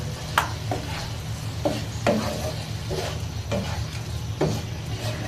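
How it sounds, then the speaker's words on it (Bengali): Rice being sautéed with spices in a pot for bhuna khichuri, a spatula scraping in a slow repeated rhythm over a low steady sizzle and background hum. "এখন চালগুলো দিয়ে সুন্দরভাবে কষিয়ে নেব"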